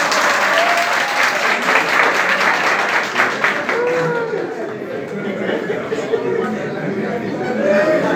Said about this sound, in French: je vais vous demander de ne pas applaudir